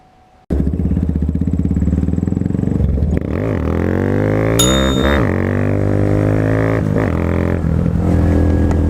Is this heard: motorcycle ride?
yes